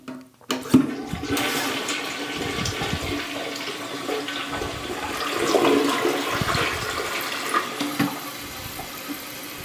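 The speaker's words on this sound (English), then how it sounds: "So I'm going to turn it on and make sure everything still flushes." A Mansfield toilet flushes after a new flush valve has been fitted. A sharp clunk opens into a loud, close rush of swirling water that swells midway, then tapers into refilling trickles. No one speaks.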